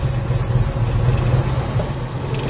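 A freshly rebuilt 1967 Chevrolet Chevelle engine runs steadily with an even low rumble, close and moderately loud, with no talking.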